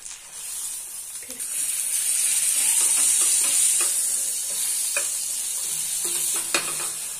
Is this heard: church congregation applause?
no